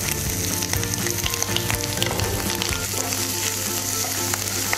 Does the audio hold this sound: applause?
no